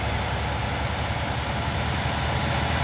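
Steady rain falls across a farm in Farming Simulator 19, a dense, even hiss of drops that holds at the same level throughout with no voices.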